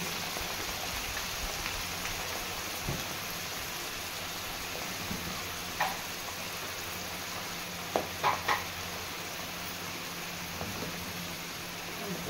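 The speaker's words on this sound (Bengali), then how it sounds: "এগুলোকে আমি লাল করে লবণ দিয়ে ভেজে নিলাম" Pointed gourd (potol) pieces frying with salt in oil, a steady soft sizzle that sounds like rain, with a few faint scrapes and taps of a spatula against the pan.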